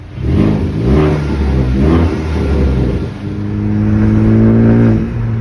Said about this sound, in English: some clips of what it sounds like currently with the stock blow-off valve and just an intake